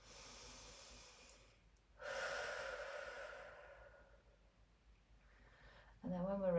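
Slow, deep breaths during a gentle stretching routine: long, airy inhales and exhales, close and soft, with pauses between them and no talking.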